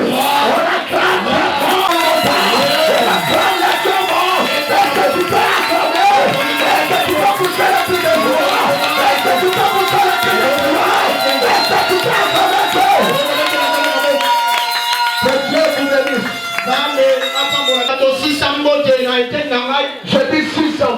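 A church congregation at a prayer retreat cheers and shouts acclamations together, a loud, continuous crowd roar with voices rising over each other and a brief lull near the end.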